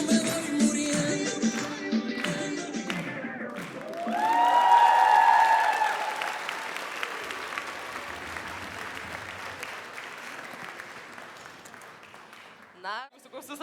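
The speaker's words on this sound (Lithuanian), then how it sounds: "Na, jūsų gausius aplodismentus." An audience bursts into loud applause at a school hundred-days celebration dance evening, swelling as the music fades and then settling into steady, sustained clapping with a few brief cheers, until a short sharp noise near the end.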